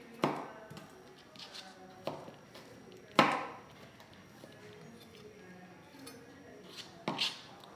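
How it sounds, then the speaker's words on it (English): A knife chops a peeled, crushed garlic clove on a board, giving a few sparse, sharp taps spread apart with a louder one near the middle, close and fairly quiet, with no talking. "and then just chop it"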